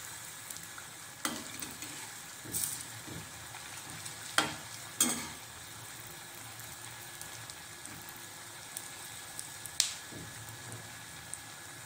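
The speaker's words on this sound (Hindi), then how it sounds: "उलट पुलट के अच्छी तरह से सेक लेंगे, एक अच्छे से गोल्डन ब्राउन कलर आने तक" Gulgula fritters fry in hot oil with a soft, steady sizzle, while occasional sharp clicks and scrapes sound as they are turned until golden brown.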